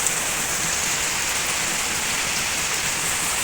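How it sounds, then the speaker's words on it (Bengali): Heavy rain pours down steadily on a dark day, a dense, even hiss with no let-up, close and loud, with no voices or other sounds over it. "অনেক দিনের পরে বেশ মানে জোরে বৃষ্টিটা হচ্ছে"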